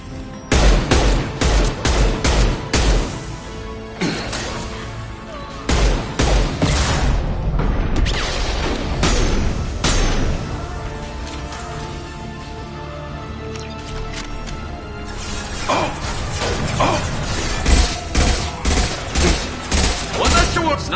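Rifle fire in Mass Effect Legendary Edition: long stretches of loud, rapid gunshots in repeated bursts, mixed with game effects and sporadic booms, with little talking.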